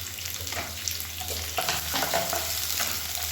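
Onion and garlic fry in hot oil with urad dal, a steady, dense sizzle close up with light stirring scrapes throughout.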